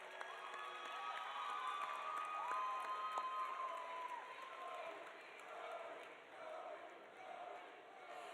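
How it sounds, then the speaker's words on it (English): At a Ski-U-Mania homecoming event, a crowd claps and cheers for the king and queen candidates, the applause somewhat distant and mixed with whoops and murmuring voices in a large room. "Please give a round of applause to these wonderful candidates."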